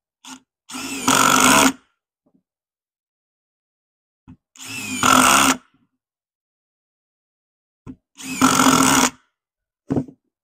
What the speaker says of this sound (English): This is sinking the screws fairly easily.